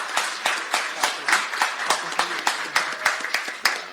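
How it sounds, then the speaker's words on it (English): A small audience at a hockey game livestream event gives light, rhythmic applause for two players, with distinct close claps repeating steadily and nobody talking over them. "please give a round of applause to these two gentlemen"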